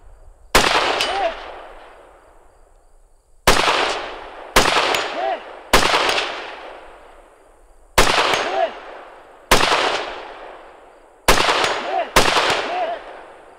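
Rifle shots ring out at a 3-gun shooting competition stage, eight sharp loud reports in irregular pairs and singles, each followed by a fading echo, with no talking.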